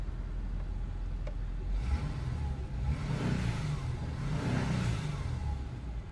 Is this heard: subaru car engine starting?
yes